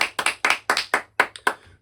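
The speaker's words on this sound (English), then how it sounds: "let's clap it up for our subscribers." Hand clapping, seven or eight sharp, close claps in a quick uneven rhythm, each crisp and distinct with short gaps between, no voices.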